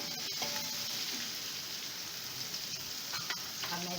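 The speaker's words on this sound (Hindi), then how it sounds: "अब अदरक लहसुन फ्राई हो गए हैं।" Ginger and garlic fry in a pan for a home-cooked fish curry, giving a steady close sizzle with scattered crackles and a few stirring clinks, with no talk over it.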